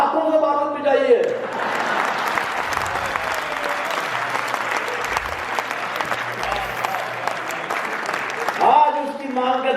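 Loud, sustained audience applause fills a Hindi kavi sammelan poetry recital hall, a dense wash of clapping lasting several seconds, with a voice briefly heard at the start and end.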